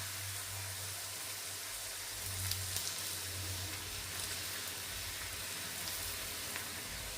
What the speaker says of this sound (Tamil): நான் போட்டு பொறிச்சிட்டு காட்டுறேன் பொரியுத பாருங்க